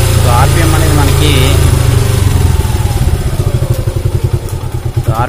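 A motorcycle engine revs up toward about 4,000 rpm during an rpm setup for better mileage, droning loud and close before settling into a pulsing, throbbing idle, with a voice talking over it.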